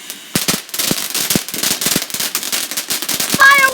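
Bonfire night fireworks and firecrackers going off outdoors in a rapid string of sharp, loud bangs and crackles, ending with a whistling rocket-like squeal.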